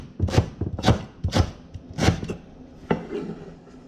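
Knife chops through curry ingredients on a cutting board for a yellow curry snapper, about six sharp, close thuds in an uneven rhythm with quiet scraping between them.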